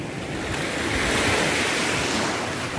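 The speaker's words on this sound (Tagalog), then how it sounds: "Yung wave." Surf rolling onto Cabongaoan White Beach in Pangasinan makes a steady, loud wash of breaking waves, mixed with some wind buffeting the microphone and no voices.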